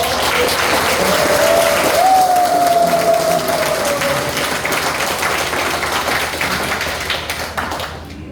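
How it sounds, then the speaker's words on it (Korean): Sustained loud applause fills a church hall during an elders' ordination and retirement service, steady and dense throughout, with a faint sung or hummed tone underneath early on before the clapping tapers off at the end. "다시 한번 뜨거운 박수로"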